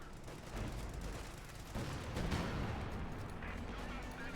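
Company of Heroes 2 battle audio with a tank taking gunfire, a dense, continuous rumble of shots and explosions staying loud and steady throughout, with no speech.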